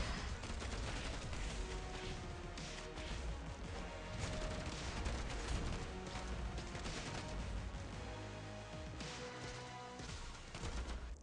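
Dense gunfire from the Arknights video game: rapid, overlapping bursts and volleys crackle continuously at moderate volume, mixed with crashes and impacts.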